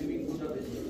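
Budapest pigeons give a brief, soft low coo, faint and close.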